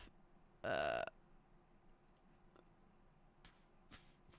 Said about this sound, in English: man, I got the hiccups.